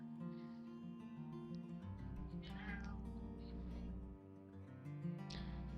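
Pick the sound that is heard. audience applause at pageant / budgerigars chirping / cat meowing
cat meowing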